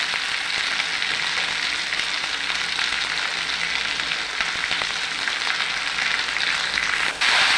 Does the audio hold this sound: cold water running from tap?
no